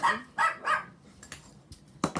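Several dogs bark in quick bursts, three sharp barks close together, then scattered softer yips and a final pair of loud barks nearby.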